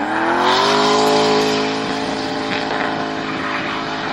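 A naturally aspirated 4-litre Toyota 1UZ V8 in a drift car revs hard with a loud, close, harmonic engine note that rises and then eases back, heard without talk.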